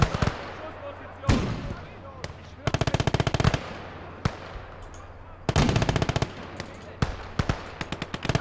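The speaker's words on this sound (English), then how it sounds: "Anti-tank rifle." Gunfire from a World War II strategy battle in Call to Arms: Gates of Hell on the Eastern Front, with sharp single cracks and rapid automatic bursts in irregular clusters, loud and close, with a voice faintly underneath.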